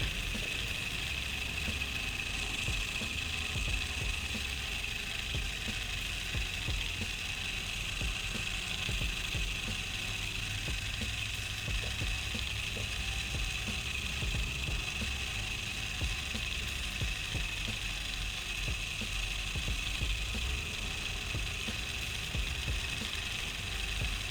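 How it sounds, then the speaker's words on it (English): A Spotonfish line counter whirs steadily as fishing line is pulled off a spool, a constant faint mechanical spinning with a fine ratcheting texture throughout. "This will keep on taking line off my spool until it hits the clip, and as soon as it feels the resistance, it stops spinning."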